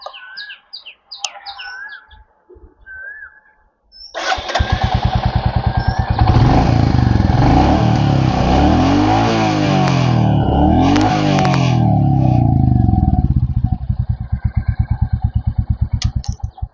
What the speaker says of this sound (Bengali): এই গাড়িটার সাউন্ড বেশি